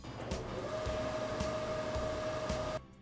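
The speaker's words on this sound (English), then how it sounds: "Start the spindle first by selecting M3 and press cycle start." The spindle of a Fagor CNC machine starts up, a steady whine holding a single pitch over a constant mechanical hum, then cutting off abruptly near the end.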